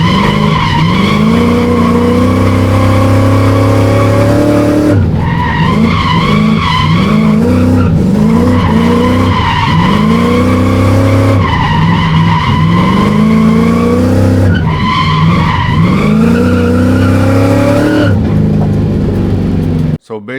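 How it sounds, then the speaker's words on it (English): A race car runs laps at wide open throttle, its engine roaring loudly and continuously with repeated rising and falling revs as it shifts and brakes through corners, heard up close as if from onboard. "So basically that whole entire run I was wide open throttle the whole time."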